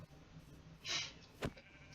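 A couple of sheep bleat in a video game, one drawn-out bleat followed by a shorter sharper one, fairly quiet against faint game background sound, no talking.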